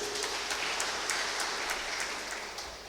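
A church congregation claps together in a dense, steady patter, fairly distant and soft, fading slightly toward the end.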